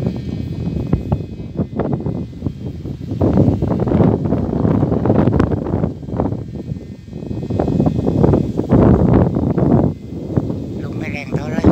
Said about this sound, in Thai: ลมไม่แรงเท่าไร